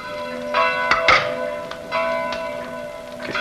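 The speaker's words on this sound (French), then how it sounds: "Toutes les nuits maintenant, les cloches se mettent à sonner toutes seules." Church bells ring at night in a village, a few clanging strikes with lingering metallic hum, fairly close and alone without speech.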